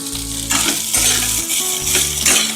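Soaked poha dry-roasting in a pan over a low flame: a steady, soft sizzling rustle with stirring scrapes, under background music, with no talking.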